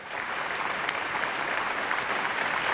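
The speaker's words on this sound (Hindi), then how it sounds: "मैं चाहता हूं कि उनके लिए भी आप जोरदार तालियां बजाएं।" Audience applause at a Hindi comic poetry recital, a steady wash of many hands clapping from a large crowd, even and sustained for the whole stretch without talk.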